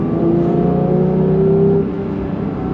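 A 2022 Porsche 911 GT3 engine revs hard on throttle, a loud sustained high-pitched wail that climbs, holds, then eases off slightly near the end, close and with no talk.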